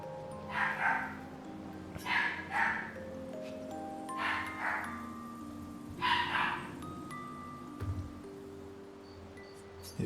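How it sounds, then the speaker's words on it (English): A dog in a video game gives several short barks in irregular bursts, moderately loud over a soft musical background. "How do you get a dog to stop barking?"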